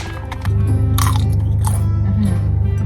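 Crispy fried corn chips from 7-Eleven are bitten and chewed up close, with loud, repeated crunching over a steady low hum.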